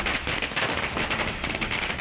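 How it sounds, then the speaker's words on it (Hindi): Fireworks crackle and pop in a dense, continuous burst at Hanumangarhi after a court verdict, loud and steady throughout with no pause. "आतिशबाजी हो रही है।"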